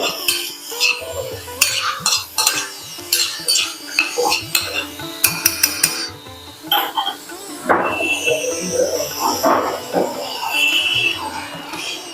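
Vegetables being sautéed with pepper powder in a pot for a sprouted ragi flour vegetable soup, heard as repeated sharp clinks and scrapes of a spoon stirring against the pot, close and fairly loud, with no talk.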